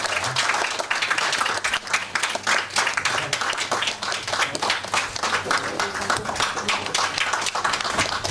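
A church congregation gives warm, continuous applause during a founding service and ordination ceremony, dense clapping filling the room at a steady level from start to finish.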